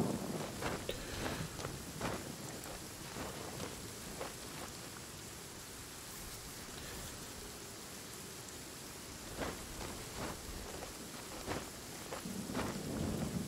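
Rain falls steadily with low rumbling thunder in the video game Genshin Impact, a soft continuous hiss broken by several brief crackling bursts, quiet overall.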